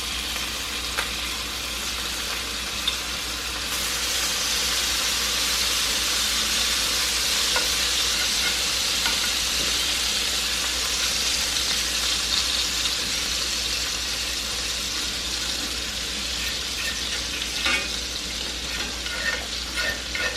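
Snapper fillets frying in a pan of butter with garlic, a continuous close hiss and crackle that holds steady throughout with occasional small spits, no talking.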